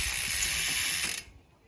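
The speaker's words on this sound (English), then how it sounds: "Now we can remove the chain." A bicycle chain is pulled off the bike after being broken with a chain tool, giving a short metallic ratcheting rattle and hiss as the links run through the gears, ending abruptly after about a second.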